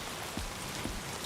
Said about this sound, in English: before we head out into the rain